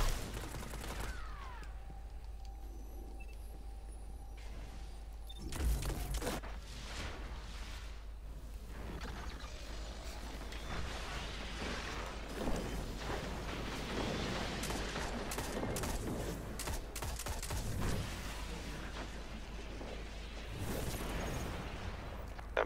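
Gunfire in a shooter video game, repeated sharp shots and bursts scattered across a busy battle mix, with a heavier blast early on and fainter rattling shots continuing throughout.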